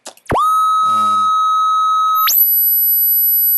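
A steady pure sine test tone holds after a quick sweep, then jumps higher to a piercing tone of about 12,000 Hz that continues alone.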